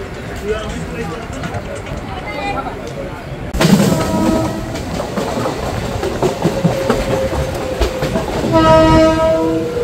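A train on the Sealdah–Ranaghat line near Pairadanga rattles steadily with wheel clatter, joined by sharp horn blasts partway through and again near the end, while a voice speaks over the running noise.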